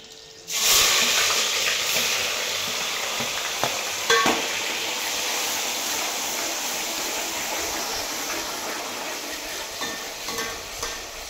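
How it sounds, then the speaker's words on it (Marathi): Onion hits hot oil in a pan and bursts into loud, steady frying, a dense continuous sizzle with a few stirring clatters, close up and without talk. "इथं तेल टाकून घेतलेलं आहे. कांदा टाकून घेऊ."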